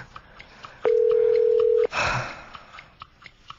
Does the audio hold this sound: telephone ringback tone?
yes